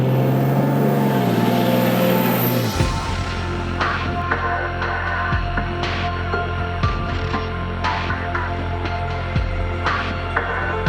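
A truck camper's engine rumbles steadily as it churns through deep sand, a loud low drone with tire and body clatter on top; a high whine fades out early in the clip.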